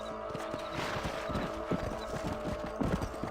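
Horse hooves clip-clop at a steady trotting rhythm in the Western video game Red Dead Redemption, close and continuous over a busy ambient bed with no talk.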